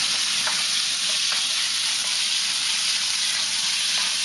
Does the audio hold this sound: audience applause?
no